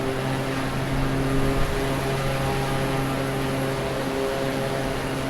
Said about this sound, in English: I had someone say on the YouTube playback engine noise was a little loud